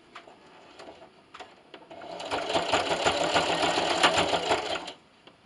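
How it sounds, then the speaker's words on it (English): A sewing machine set to a zigzag stitch with length 3 and width 4 backstitches at the start of a quilt-as-you-go table runner seam. Light handling clicks come first, then a steady close mechanical whir runs about three seconds before stopping. "So I'm going to backstitch here in the beginning."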